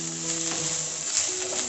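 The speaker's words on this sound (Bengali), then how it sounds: "সব সবজিগুলোকে খুব ভালোভাবে ফ্রাই করে নেব।" Chopped onion, capsicum and green chilli frying in a pan for a quick pizza recipe, a steady close sizzle with faint stirring, no voices.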